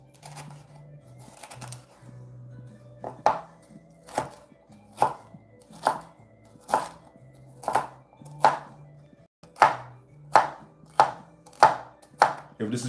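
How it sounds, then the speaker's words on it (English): A knife dices bell peppers on a cutting board in a home kitchen, with a steady series of sharp, close chops about every half second that quicken toward the end, and a faint low hum beneath. "we're gonna dice up the bell peppers"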